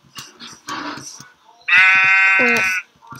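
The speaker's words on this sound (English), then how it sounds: "I want to kill the sheep before nightfall" A sheep in the Minecraft video game gives one loud, drawn-out bleat near the end, following softer game sounds and brief clicks.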